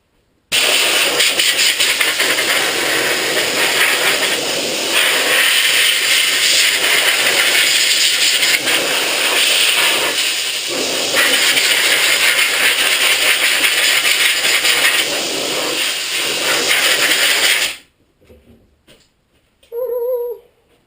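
Compressed air hisses steadily and loudly while blowing dry the cleaned carburetor parts of a 2005 Yamaha YZ250 dirt bike, a continuous rushing blast lasting most of the time before cutting off abruptly, leaving near-silence with a brief faint sound.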